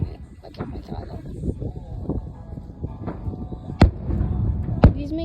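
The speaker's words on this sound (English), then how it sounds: "Fireworks, fireworks," Fourth of July fireworks bursting, a few sharp distant bangs spaced out over a murmuring crowd with people talking nearby.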